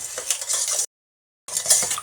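A spoon stirs handmade activated charcoal soap batter by hand in a bowl, giving steady scraping and clinking strokes that pause briefly mid-way, with no talking.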